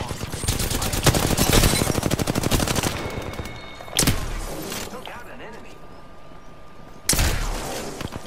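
In a video game firefight, rapid gunfire rattles away, then two sharp, heavy blasts of a Peacekeeper shotgun ring out a few seconds apart, while a player talks over the action.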